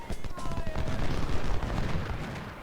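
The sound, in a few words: artillery bombardment by 10-pounder cannons in Ultimate General: Civil War video game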